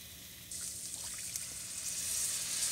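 Half a cup of water pours into a pan of sausage risotto, a soft steady trickle starting abruptly and running on quietly to the end.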